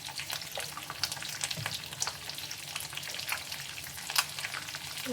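Egg pepper fry roasts in a pan over a medium flame, a soft, steady sizzle with scattered crackles and pops heard close and alone.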